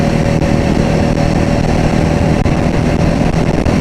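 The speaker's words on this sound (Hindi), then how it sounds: "बाइक 100 की स्पीड पे भी भाग रही है" A motorcycle cruising at around 100 km/h on an empty highway in Gujarat, a loud, continuous engine drone with steady wind rush and no voices.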